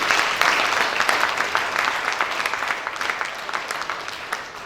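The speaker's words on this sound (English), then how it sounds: "Please help me give him a round of applause." An audience at a lecture on presumptive tax regimes and ICT in revenue generation applauds steadily, a dense wash of many hands clapping at moderate distance that slowly fades toward the end.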